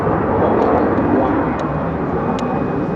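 An F-35B fighter jet roaring through a flying display at Farnborough International Airshow, with loud, broad, sustained engine thunder that stays heavy for the whole stretch.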